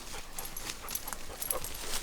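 A dog runs around in the woods, making a steady, scuffling rustle of paws through leaf litter and undergrowth, with a few brief louder footfall bursts near the end. No one speaks.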